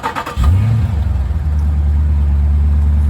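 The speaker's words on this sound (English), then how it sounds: "So without further ado, here comes an engine start." A 2014 Jeep Grand Cherokee SRT8 engine cranks and fires with a push-button start, then settles into a loud, deep, steady idle close by.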